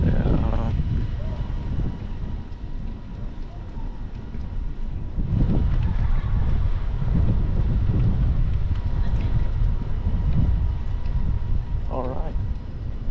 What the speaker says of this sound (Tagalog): Kung ano talaga, ay mahangin talaga